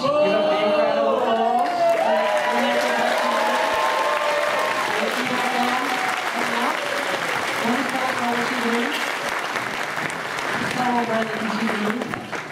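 A film festival audience applauds after a horror film Q&A in a theatre, with loud, sustained clapping filling the room throughout while a voice talks over it.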